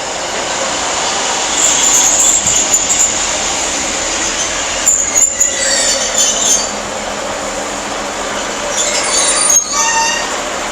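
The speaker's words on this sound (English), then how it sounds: "Getting ready to part now is the 1412 East Midlands Railway service to Newcastle." East Midlands Railway Class 156 unit 156 918 pulls out of Derby station on the 14:12 service to Newcastle, its engine rumbling steadily while wheels squeal in high, repeated bursts as it moves off.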